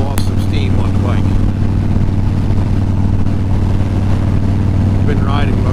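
A constant engine drone with a steady low rumble throughout, like a motorcycle cruising along the road, with faint wind noise.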